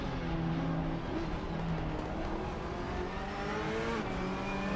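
Race car engines roar in the Assetto Corsa Competizione sim at Brands Hatch, a Porsche among them, as a loud, sustained drone that climbs and shifts pitch, with no voices.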